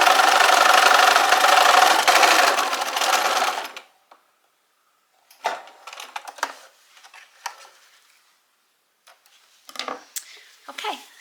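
Sewing machine running a straight stitch close to the fabric edge, a steady loud close whir for about four seconds, then silence broken by scattered light clicks and handling taps.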